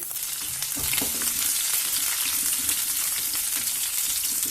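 Shallots and garlic fry in light olive oil, a bright, dense hiss of sizzling that swells after they drop into the pan and then holds steady and close, no voices.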